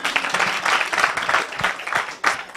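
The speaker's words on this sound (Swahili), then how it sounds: "Makofi yake iko wapi?" An audience claps in a continuous stretch of applause at a game show, fairly close and steady for the whole moment.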